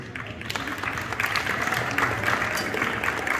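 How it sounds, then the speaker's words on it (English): School camping event crowd applauding, a continuous wash of clapping at moderate level with faint crowd murmur underneath. "Round of applause for them, please"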